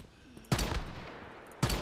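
Pistol gunshots in the survival video game Once Human, two loud sharp shots about a second apart, each with a short tail, over quiet background ambience.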